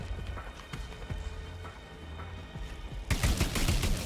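Gunfire in the co-op shooter The Anacrusis, a dense burst of rapid shots starting suddenly near the end after quieter game ambience with scattered thuds.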